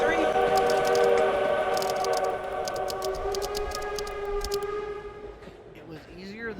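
A train in the video game Tick Tock: A Tale For Two sounds a loud, sustained whistle of stacked tones over a rumbling track. The whistle fades out toward the end.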